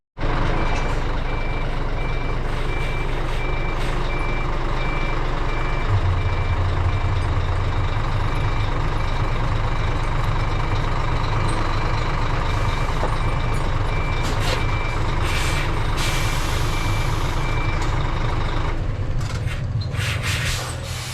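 A coach backs up while snow chains are fitted, its reversing alarm beeping steadily over a loud, continuous diesel rumble. The beeping lasts the whole time, with brief hissing and rubbing noises near the end.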